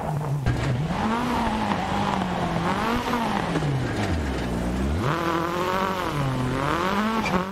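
Skoda Fabia WRC rally car in the game DiRT Rally 2.0, engine revving steadily and rising and falling through gear changes with tire noise throughout, loud and continuous with no talk.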